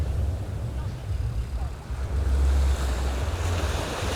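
Ocean waves wash continuously onto a beach in Aruba, a steady roaring surf with a brief swell near the middle, mixed with gusty wind rumbling against the microphone.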